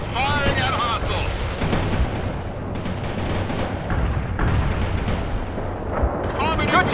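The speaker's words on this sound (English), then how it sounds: "Firing at hostiles." Gunfire and artillery in the real-time strategy game World in Conflict, a steady rumbling barrage of shots and heavy blasts under voiced radio chatter and battle noise, fairly loud and continuous.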